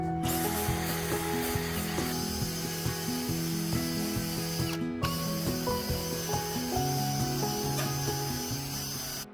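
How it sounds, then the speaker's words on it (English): A drill brush scrubbing a basket: a continuous grinding, rubbing mechanical whir with a rhythmic ratcheting pattern, loud and close, running steadily without pause. "My drill brush got a little squirrely on me there"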